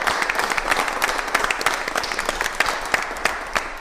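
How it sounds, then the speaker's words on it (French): A small group at a cooking competition applauds contestant Roxane for leading after the macaron round, giving moderate, continuous clapping with individual sharp claps standing out throughout. "Je pense qu'on peut applaudir."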